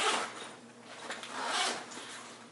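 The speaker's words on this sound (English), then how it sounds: "Zip that back up and stores real nice" Double zipper on the external pocket of a folding metal detector carry bag being zipped closed, a couple of close, scratchy zipping passes with no talking.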